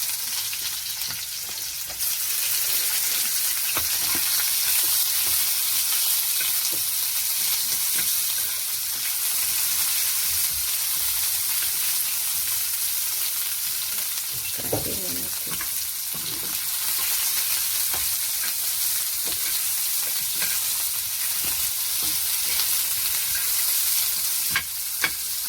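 Chopped onion frying in hot oil after a five-spice tempering gives a loud, continuous sizzle with the faint scrape of stirring and occasional small pops, steady throughout with no voices.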